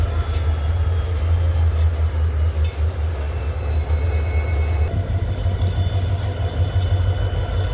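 A train rolls slowly over a newly built railway underpass bridge at Rani Bazar in Bikaner, a steady heavy rumble with faint squealing wheel tones running throughout, close and continuous.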